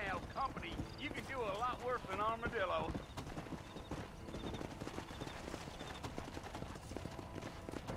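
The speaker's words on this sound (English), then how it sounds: "It's kind of difficult to control the horse." Horse hooves clip-clopping in the video game Red Dead Redemption, a rhythmic run of hoofbeats with a whinny early on, then steady galloping continuing under game sounds.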